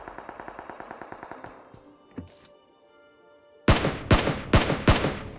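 Gunfire in the mobile battle royale game PUBG Mobile: a rapid, evenly spaced burst of automatic shots fades out, then after a short lull a few loud, sharp single shots ring out close by.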